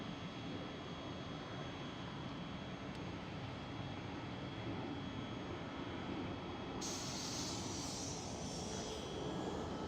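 An SAS jet airliner at Schiphol airport, a steady broad engine roar filling the whole stretch at a distance, constant and unbroken with no voices.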